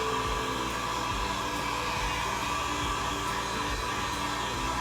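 A hair dryer blows continuously at close range, a steady loud whooshing hum as it dries chalk paste on a craft piece, with faint tapping underneath.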